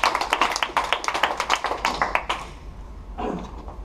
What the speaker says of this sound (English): Give yourself a round of applause for the people that